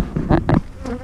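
Honeybees buzz loudly and close around an agitated hive, a dense droning hum that swells twice in quick pulses within a single brief moment.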